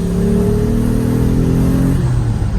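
Dodge Stealth R/T engine with an HPS cold air intake revving loudly up through the gears, a sustained throaty roar with rising pitch that shifts down near the end, heard close inside.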